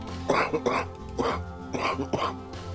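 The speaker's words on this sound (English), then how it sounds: "I'm coughing." A person coughs several times in a row, close up and fairly loud, with short harsh bursts spaced across the moment while a game runs in the background.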